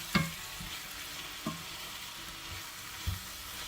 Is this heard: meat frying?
yes